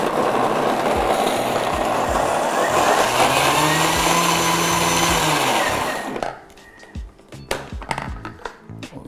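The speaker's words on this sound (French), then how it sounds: "on va commencer à mixer cette première étape" A blender mixes cream, mascarpone and salt with a loud, steady whirring for about six seconds, then cuts off abruptly, leaving a few light clatters and knocks.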